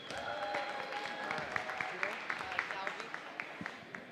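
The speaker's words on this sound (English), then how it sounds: "Everybody, let's give a big round of applause for Jackson." Applause from spectators at a high school basketball event, a moderate spread of clapping with distinct individual claps growing more regular, heard somewhat distantly in a large gym.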